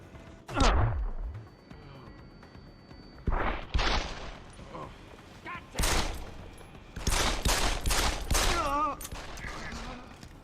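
Gunfire in Deus Ex: Human Revolution, including a machine pistol, rings out in several sharp bursts and single shots, loud and close, separated by quieter stretches with faint background sounds.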